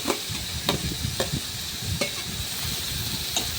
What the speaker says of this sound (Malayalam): നന്നായിട്ട് സവാള ഇട്ട് കൊടുത്തിട്ട് നന്നായിട്ട് മിക്സ് ചെയ്ത് കൊടുക്കണം